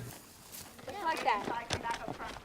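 Horses walking together on an evening ranch dinner trail ride, hooves clip-clopping softly and irregularly at a steady walking pace, with people talking throughout.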